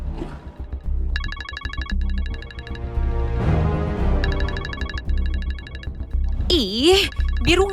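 A mobile phone rings indoors in a drama scene, sounding a repeating electronic ringtone of bright chiming bursts over a music bed, with a swooping tone near the end.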